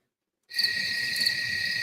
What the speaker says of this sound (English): Where are those crickets coming from?